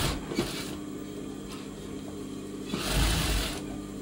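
A sewing machine stitching a blouse back neck, running in short steady bursts of rapid mechanical whirring at close range, with quieter pauses in between.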